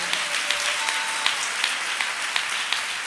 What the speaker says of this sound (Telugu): ఒకసారి అందరూ మనకు ఆలోచన చెప్పే దేవునికి చప్పట్లు కొట్టండి